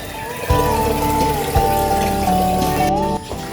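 Hot water poured over freshly killed ducks to loosen their feathers, a steady close splashing pour with a few sharp knocks and a brief break near the end.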